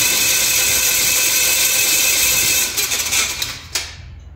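A small aircraft engine is cranked by its starter with fuel off and mixture full lean, a steady loud mechanical whir that runs continuously, then breaks up and stops near the end.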